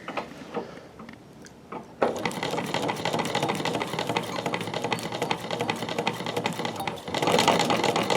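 A Davis VF treadle-style sewing machine with a hopping foot stitches fabric, its steady rapid clatter starting after a brief quiet lead-in and running continuously, briefly easing then speeding up louder near the end.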